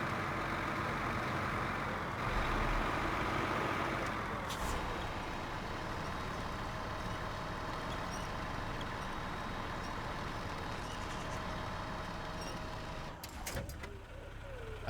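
The Boar, a heavy truck in a video game, runs with a steady, loud engine drone and rumble that holds for most of the stretch, then briefly shifts near the end.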